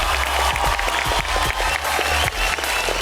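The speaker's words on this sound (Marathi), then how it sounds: "एकदा जोरदार टाळ्या तुमच्यासाठी आणि तुमच्यावर प्रेम करणाऱ्या तुमच्या फॅन्ससाठी." A studio audience at a Marathi reality show applauds loudly and steadily, a thick wash of many hands clapping close in, with no voices over it.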